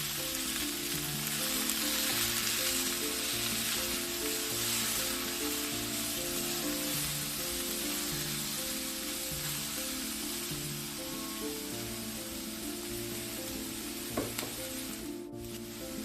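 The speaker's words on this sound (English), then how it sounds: "We're going to start by sauteing our peppers and onions, add a little olive oil to a heated pan, and toss those peppers in" Peppers and onions sauté in olive oil in a heated pan, giving a steady close sizzle with occasional stirring, and no talk.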